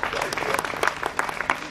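Audience applause at a Hindi comedy poetry show, a short burst of brisk clapping from a crowd, fairly close and loud with a voice faintly underneath.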